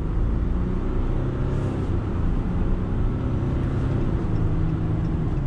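A 2020 Ram 1500 Limited EcoDiesel V6 diesel truck under throttle on the road, a steady, smooth, loud low rumble heard from inside the cab without any speech.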